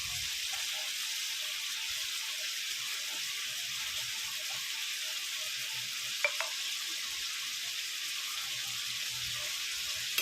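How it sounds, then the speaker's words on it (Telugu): Chicken pieces fry in oil as their water cooks off, a soft, steady sizzle that hisses evenly throughout, with one small clink partway through. "చికెన్ అనేది వాటర్ అంతా పోయి ఆయిల్ వచ్చే వరకు అయితే బాగా వేగనివ్వాలి"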